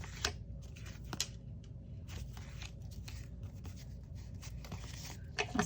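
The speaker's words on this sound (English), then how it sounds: "Then I'm just going to turn it over and trim any little bits that may be sticking out" Scissors trim the paper edges of a junk journal page up close, a series of scratchy snips and rustles spread unevenly at a moderate level.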